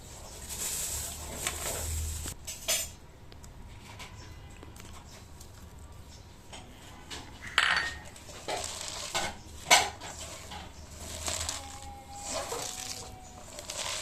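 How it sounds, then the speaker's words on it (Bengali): Cabbage pakora batter of shredded cabbage, chopped onion, cumin powder, garam masala and gram flour being mixed by hand in a bowl, giving soft wet squishing and clicking sounds in irregular bursts, close and fairly quiet. "আমরা একটু জাস্ট আন্দাজটা বোঝার জন্য প্রথমে একটু মিক্স করে নিচ্ছি"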